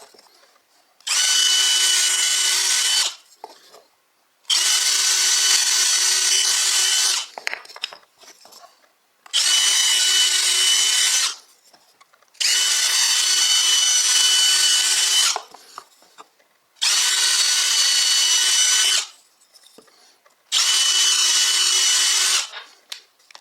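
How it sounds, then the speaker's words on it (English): A power drill whirs in six steady bursts of about two seconds each while drilling pilot holes in wood, separated by short pauses, close and loud with no talking. "I'm just going to drill 2 pilot holes"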